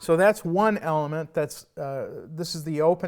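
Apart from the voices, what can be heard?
None of the usual background noises is heard.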